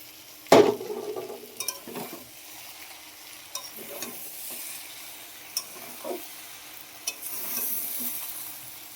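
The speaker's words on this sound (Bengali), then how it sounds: "আমি এবার আলুটা দিয়ে একটু কষিয়ে নেব" Potato and soybean chunks sauté in a pan with a quiet, steady sizzle, broken by a sharp utensil clank early on and scattered scraping stirs throughout.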